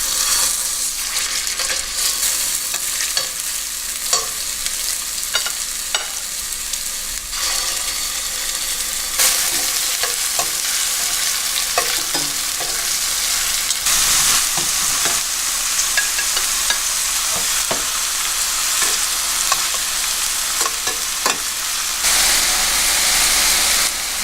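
Meatballs frying in a hot pan over medium heat make a steady, loud sizzle with scattered pops and crackles, continuing without any talk.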